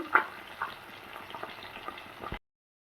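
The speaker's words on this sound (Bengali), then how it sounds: "এবার আমি মাছটা ভেজে নিচ্ছি।" Fish, likely tengra, frying in hot oil in a pan: a steady, close, soft sizzling hiss with a couple of small pops, cutting off abruptly after about two seconds.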